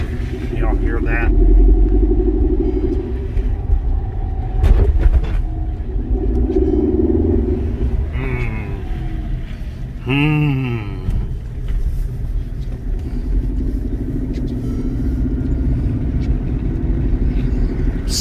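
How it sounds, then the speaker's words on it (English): Inside a 2013 Mercedes-Benz C250 on a test drive, a low engine rumble drones steadily beneath the cabin floor while people talk over it. "I don't like how it sounds like the engine is in the floorboard down there"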